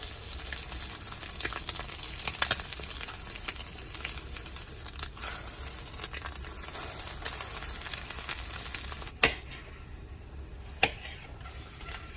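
Eggs fry in a pan for breakfast, a steady close crackling sizzle with occasional sharper pops and spatters, no voices.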